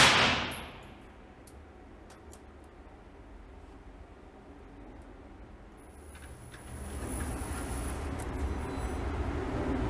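A shotgun fires once at a target outdoors, a loud blast right at the start that fades into steady low background rumble and wind-like noise.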